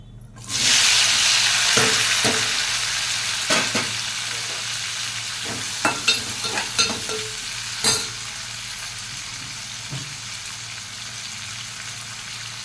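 Green chilies, tomato and onions hit hot oil in a pan with a sudden loud sizzle that settles into a steady fry, followed by a series of close spatula taps and stirs.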